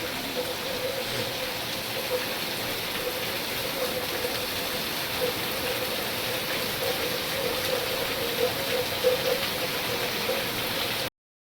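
Heavy monsoon rain falls hard and without break, a steady loud wash of drops on surfaces that holds the same density until it cuts off abruptly near the end.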